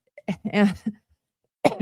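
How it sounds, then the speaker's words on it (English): A short burst of coughing, a few sharp rough coughs close up, followed after a brief pause by another cough. "forgive my cough"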